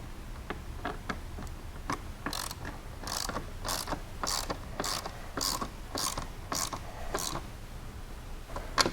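A ratchet clicks repeatedly while tightening a bolt on the floorboard skids of a 2020 Polaris General, a run of sharp, rhythmic close ticks at moderate volume.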